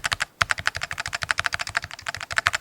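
Rapid, steady typing on an Akko MOD007 v3 HE Year of Dragon keyboard, with crisp keystrokes close up in a quick, even rhythm and no other sound.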